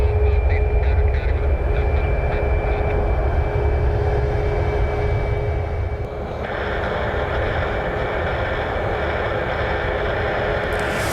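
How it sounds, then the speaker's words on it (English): A United Airlines Boeing 737 MAX 8 jet roars through its takeoff with a loud, steady engine rumble that swells slightly and then holds for several seconds, with no voices. "United Airlines Flight 1184. It's a 737 MAX 8."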